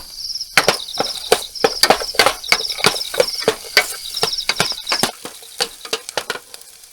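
Ginger, garlic and onion sauté in hot oil at a riverside camp, a steady crackling sizzle broken by sharp clicks and scrapes of a utensil against the pan, close and fairly loud with no talk.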